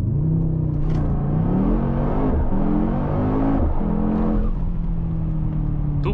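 A 2023 Mercedes-AMG GT 63 S 4-Door Coupe with an 843 hp V8 accelerating hard: a loud, continuous engine roar whose pitch climbs and drops through quick gear changes.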